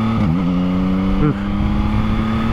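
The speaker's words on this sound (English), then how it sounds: "She doesn't like those low RPM quick shifts." Yamaha MT-09 motorcycle engine droning loud and close while riding, with quick upshifts at low RPM that make brief pitch dips and a stumble in the tone.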